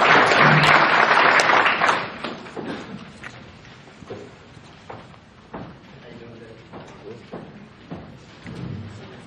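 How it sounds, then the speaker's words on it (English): Loud burst of applause from a crowd at a candidate forum at the start, fading quickly into scattered claps and room noise with some talking. "Give a round of applause."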